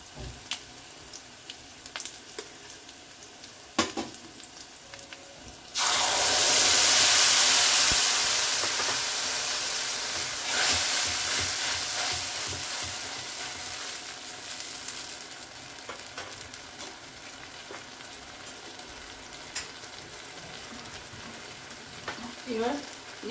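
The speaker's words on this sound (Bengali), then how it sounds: "এবারে সর্ষে পোস্তটা দিয়ে দেবো" Mustard and poppy seed paste goes into a pan of hot oil already frying black cumin and green chillies for pomfret curry. It erupts into a loud, hissing sizzle that slowly fades to gentle frying, with occasional clinks.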